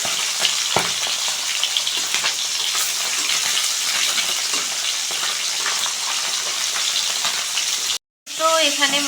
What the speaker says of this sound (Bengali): তো এখানে মাছ ভেজে তুলে দিচ্ছি, আর এখানে বাকি মাছগুলো দিয়ে দিচ্ছি।